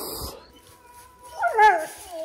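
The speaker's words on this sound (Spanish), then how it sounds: "Porque el perro no se va a ir." A stray, aggressive street dog whimpers and yelps in a rising, wavering cry near the end, preceded by quieter whines, close and fairly loud.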